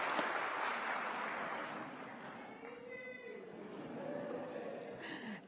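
Audience applause at a university convocation ceremony, a dense wash of clapping that holds steady for several seconds, with a few faint voices in the crowd.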